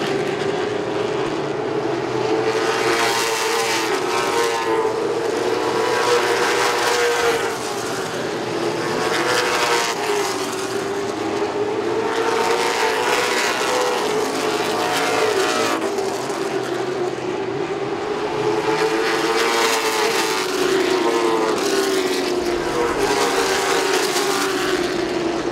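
Late model race cars roar around the oval at Southern National Motorsports Park in a loud, continuous engine drone that swells and fades as the pack passes, with no voices over it.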